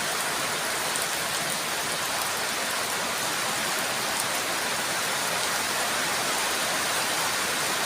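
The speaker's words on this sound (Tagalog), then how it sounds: "Ulan ng malakas o." Heavy rain pours down in a dense, constant hiss that stays loud and even from start to finish, with no pauses.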